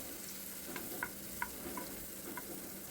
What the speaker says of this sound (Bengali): এখন রসুন, কালো জিরে আর পেঁয়াজ একই সাথে ভেজে নিচ্ছি